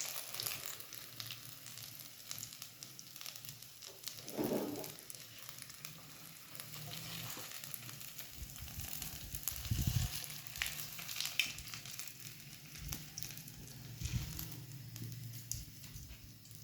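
Cabbage kebab rolls fry in hot oil with a steady, quiet sizzle and soft crackle that runs throughout, with a few faint clinks and stirring sounds near the middle.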